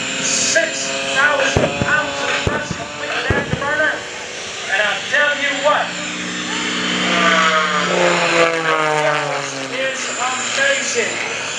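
A 350-horsepower MX2 aerobatic propeller airplane engine snarls and whines with rising and falling pitch as it maneuvers at an airshow, loud and near, under an announcer's voice talking over it.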